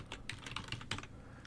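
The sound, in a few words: typing a folder name on a computer keyboard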